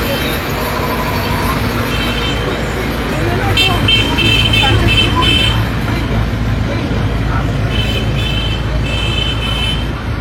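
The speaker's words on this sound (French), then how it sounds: "la circulation ici est dense" Dense street traffic roars continuously and loudly, with engines, passing vehicles and repeated car horn toots, while people talk over the din.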